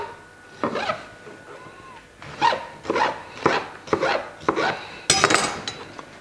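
A knife cuts through green zebra tomatoes during an outdoor cooking demonstration, giving a run of about five crisp, separate slicing strokes, close and fairly loud, with no talk over them.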